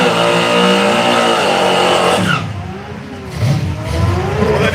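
Naturally aspirated Mopar drag car at a street machine drag challenge, a loud engine roaring and revving hard, dipping briefly mid-way before surging again, close and dominant with no talk.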